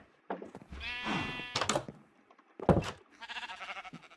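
Sheep in the Minecraft video game bleat several times, short wavering game cries spaced apart with a soft thunk between them, clear and close with no speech.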